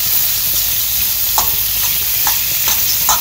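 Moringa drumsticks and sweet pepper stir-frying in a pot, a loud, steady hiss of sizzling with periodic scraping stirs every half second or so, close up.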